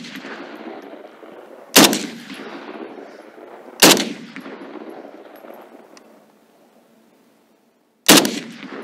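Three sharp, loud gunshots from a Saiga-308 carbine, spaced a couple of seconds apart, each cracking out and echoing away, with a quiet pause before the last.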